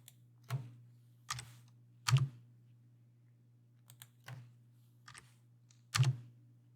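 Isolated keystrokes tap on a computer keyboard, spaced irregularly over a few seconds, close and crisp against a steady low electrical hum.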